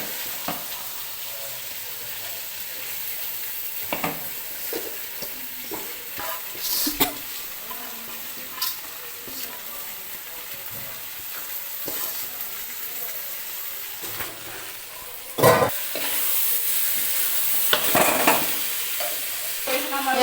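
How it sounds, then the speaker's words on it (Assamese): Egg chowmein is stir-fried in a pan with a soft, continuous sizzle, broken by repeated scraping and clanking of a spatula that grow louder near the end. "আমি এতিয়া সকলোখিনি ভালকৈ ভাজি লৈছোঁ"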